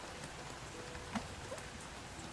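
Steady rain falls in the old-school MMO Apogea, a quiet, even hiss of drops with a couple of faint brief tones rising above it, no voices present.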